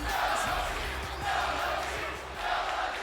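A virtual arena crowd in WWE 2K20 roars and chants in swelling waves, loud but a little distant, with faint thuds from the ring beneath it.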